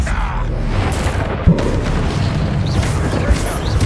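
A Bombarda blast spell in Hogwarts Legacy gives a sharp booming burst, with a second fainter thump, amid game ambience and brief speech.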